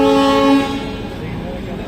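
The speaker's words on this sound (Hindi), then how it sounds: "इधर राप्ती गंगा एक्सप्रेस ट्रेन का अराइवल हो रहा है" Rapti Ganga Express pulling into Moradabad Junction, its loud, steady horn sounding close for about half a second before fading into a broad rumble of station and rail noise.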